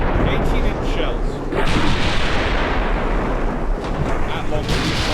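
Battleship main guns firing 18-inch shells in a naval video game, a thick continuous rumble of heavy booms and rolling blasts, loud and close, with a voice talking over it.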